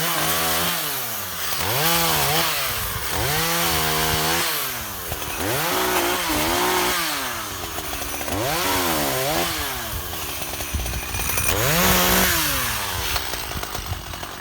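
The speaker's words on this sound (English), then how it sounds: "This is like my reserve chainsaw really." An old Makita DCS340 chainsaw, kept as a backup, runs steadily close by, its engine repeatedly revving up and dropping back in uneven surges over a constant loud drone, with no voices.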